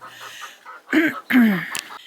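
Chickens, including American breed and Easter Egger roosters, make two or three short, nearby clucks and squawks, one after the other, over a quiet outdoor background.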